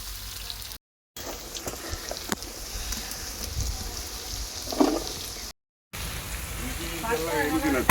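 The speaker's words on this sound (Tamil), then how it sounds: "மாஸ்டர் நல்லா பொன்னிறமாக வெங்காயத்தை வதக்கிட்டாரு" Onions fry golden in a pan for village-style biryani, making a crackling sizzle close by, broken by two short silent gaps, while people talk over it.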